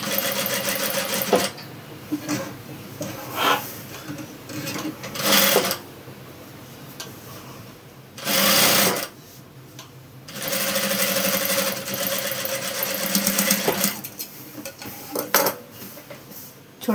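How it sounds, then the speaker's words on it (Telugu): Sewing machine stitching the neckline of a long frock, close rattling bursts of rapid stitching that start and stop in short runs and longer stretches, with pauses between. "ఇలా చూసుకుంటూ నిదానంగా నెక్ అనేది కుట్టుకోండి"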